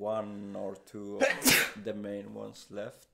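A single sharp sneeze bursts out midway through a man's speech, loud and close, with talking before and after it.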